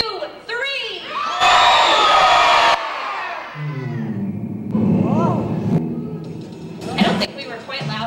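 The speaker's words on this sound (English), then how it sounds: "On the count of three, let's all yell, "Hey, Bear!"" An audience of children at a Bear in the Big Blue House show at Disney-MGM Studios yells "Hey, Bear!" together in a loud burst, followed by scattered shouts and crowd noise.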